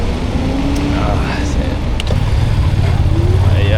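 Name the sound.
motorbike passing on a street in Rio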